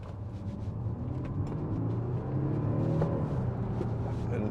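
A 2013 Audi SQ5 3.0 BiTDi diesel with Tiptronic quattro accelerates on an open road, its steady engine drone rising in pitch under a constant rumble of tyres and wind, close and continuous throughout.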